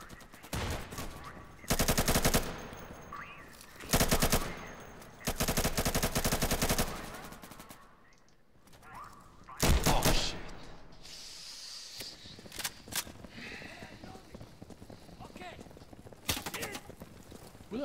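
Loud bursts of automatic rifle fire in the tactical shooter Insurgency, several sustained volleys in the first ten seconds, then scattered shots and softer hissing in a busy firefight at the Russian embassy.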